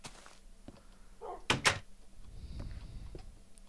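A wooden door placed in Minecraft gives two quick, sharp knocks close together midway through, over a quiet background with faint murmuring.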